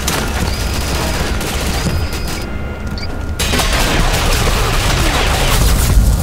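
Gunfire in the Ghost Recon video game, dense crackling bursts of shots over a constant loud wash of game noise, with a brief lull before the firing resumes more heavily.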